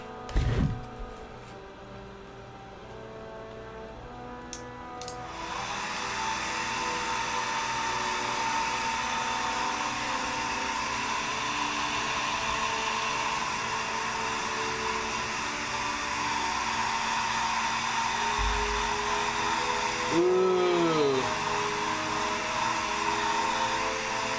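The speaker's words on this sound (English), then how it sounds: "Okay, now I definitely need the blow dryer." A steady whirring drone of a blow dryer in a garage runs loud and continuous after a brief start, with a short pitch wobble near the end.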